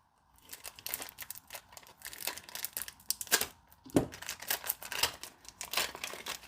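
A package holding flat multitools is cut open and unwrapped, giving faint, close crinkling, tearing and rustling in irregular bursts, with one sharper crunch partway through.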